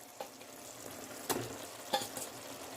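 Fried eggs stirred into an onion-stalk curry in a pan sizzle steadily, with a few scraping knocks of the spoon as it is mixed.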